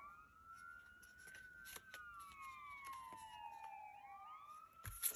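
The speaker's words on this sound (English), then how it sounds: "I can't do anything about the sirens when you live next to the fire station and the hospital" Emergency sirens from a nearby fire station and hospital wail outdoors, with several tones sliding slowly downward as the vehicles pass, fairly faint and distant, with light clicks and handling noises close by.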